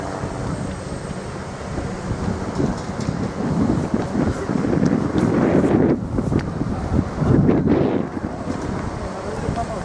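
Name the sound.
strong wind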